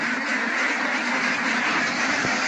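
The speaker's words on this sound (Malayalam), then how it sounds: "നമ്മളെ പുതിയ ബാച്ച് താറാവ് ഫുള്ളാണ്," A batch of three-and-a-half-month-old ducks in a pen, quacking together as a steady, dense chorus that is loud and close, with no talking.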